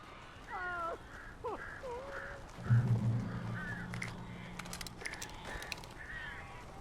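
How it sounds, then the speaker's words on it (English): Crows caw in a few harsh, hoarse calls up close in Alan Wake Remastered, followed by a low droning tone and scattered flapping and clicking noises; no one speaks. "These birds are weird."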